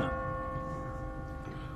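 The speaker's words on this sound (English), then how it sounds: "What kind of church bell goes off at 20 past the hour?" A single church bell's lingering hum in The Walking Dead game decays slowly and faintly, its steady ringing overtones fading out over a low background rumble.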